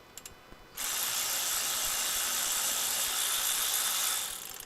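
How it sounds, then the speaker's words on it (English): A ratchet turning a socket on a Crew Cab Charger makes a continuous, fast clicking whir that runs for about three seconds after a few soft knocks, loud and close, then tapers off. "I have the ratchet right here."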